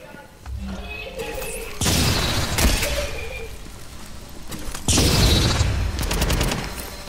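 Bursts of gunfire in Incursions, a first-person shooter, come as two loud, dense volleys with quieter sporadic shots between them and brief voices underneath.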